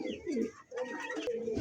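A large Silver Lahori pigeon with feathered feet coos close by in a few soft, throaty rolling phrases separated by short pauses.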